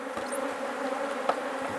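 Honey bees buzz steadily at a hive fitted with a pollen trap, a close, continuous droning hum that holds at an even level throughout.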